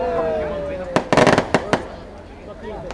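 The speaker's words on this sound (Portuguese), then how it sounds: "Ainda deu uma explosão." Fireworks go off at the lighting of a São João bonfire: a quick cluster of sharp, loud cracks and pops, then a few scattered bangs, with voices talking over the outdoor scene.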